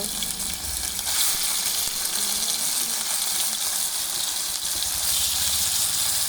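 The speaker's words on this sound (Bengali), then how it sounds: "এখন এই বেরেস্তার তেলে মাংসগুলো সব ভেজে নেব" Steady, dense sizzling hiss of beef frying in oil left from frying onions, close and continuous throughout, with faint clinks underneath.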